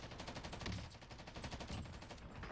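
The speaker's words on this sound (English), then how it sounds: "Now the recoil is pretty tough with this gun, as you can tell, but 30 meters is manageable." Rapid automatic gunfire from a hard-recoiling gun in a shooter video game, a dense string of fast rhythmic shots firing continuously at close range with no talk over it.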